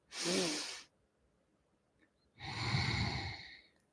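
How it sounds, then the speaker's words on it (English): Two slow, deep breaths during a guided breathing exercise, an airy inhale followed by a pause and then a longer hissing exhale, close and clear with no talking. "We're inhaling, exhaling, and we go to that side 11 breaths"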